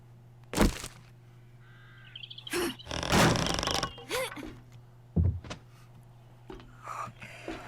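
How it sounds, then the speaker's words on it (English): A harsh cawing bird call from the video game 7 Days To Die rings out a few times, loud and close, among other short clicks and bursts of electronic-sounding noise. "I heard the bird."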